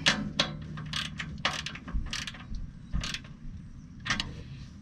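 Ratchet tightens a bolt on the turbocharger intercooler of a 2007 Freightliner truck, giving several close bursts of clicking pawl strokes separated by short pauses over low background hum.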